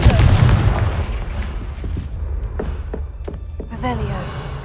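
A Confringo explosive spell cast in Hogwarts Legacy, a deep booming blast up front followed by a scatter of sharp impacts and crackles, with a voice speaking over the action.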